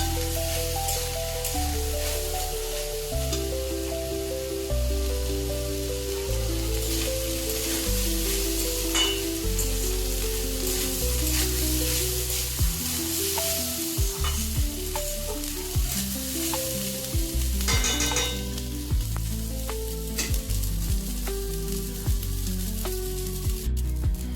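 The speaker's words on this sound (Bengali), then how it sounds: "এবারে এতে আমি চাল ডালটাকে ভেজে নেবো" Rice and lentils dry-frying in a kadai for sweet khichdi, a steady close sizzle with repeated scraping stirs of a spatula against the pan throughout.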